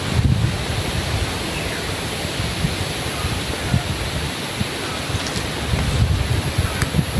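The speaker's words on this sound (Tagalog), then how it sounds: "It's really windy here." Strong wind gusting outdoors in a rural Philippine province, a steady broadband roar buffeting the microphone with heavier surges at the start and end, no voices heard.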